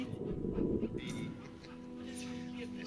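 A dog in the video game That Dragon, Cancer pants and snuffles softly near the listener; a person talks over it.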